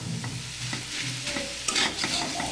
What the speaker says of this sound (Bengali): এটাকে এইভাবে নেড়ে চেড়ে আস্তে আস্তে করে অল্প আস্তে সুন্দর করে ভাজতে হবে